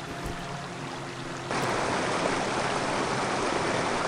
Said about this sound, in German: Wasserfall mit berauschenden, also wirklich berauschenden Effekten